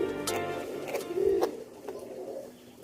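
White pigeons coo nearby in a few soft, low, rolling phrases, with faint background noise and no one speaking.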